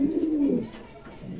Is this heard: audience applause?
no